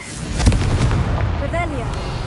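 Spell explosions from the Hogwarts Legacy video game: loud, continuous booming blasts and rumbling bursts, with a swooshing magical whistle near the end.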